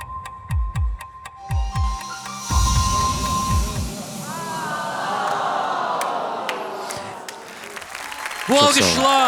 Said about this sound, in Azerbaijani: Bu alqışlar sizindir